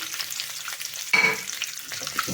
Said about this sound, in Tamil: எல்லாமே போட்டு 1 நிமிஷத்துக்கு நல்லா வதக்கிக்கோங்க